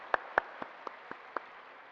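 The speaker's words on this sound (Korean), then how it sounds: "다시 한번 우리 아버지께 우리 감사의 박수 올려드릴까요?" A few slow, separate hand claps ring out in a church during a Sunday service, six distinct claps spaced evenly and fairly faint in a quiet room.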